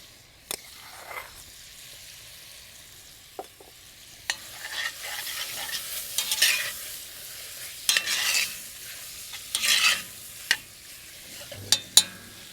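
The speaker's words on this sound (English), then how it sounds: "Give it a nice stir. We can add tomato paste." A spoon stirs lamb stew with tomato paste in a pot, with scraping strokes and soft sizzling in uneven bursts, growing busier partway through. It is fairly close, with no voices.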